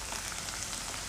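Water sprinkled into okra masala frying in a hot pan over a medium gas flame, giving a brief, steady, close hiss and sizzle with no talking.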